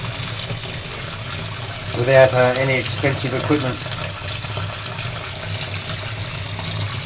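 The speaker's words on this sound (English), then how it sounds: "So you just fill it up with cold water." Cold tap water gushes steadily into a container at a kitchen sink, with a continuous hiss and splash, while someone talks briefly over it.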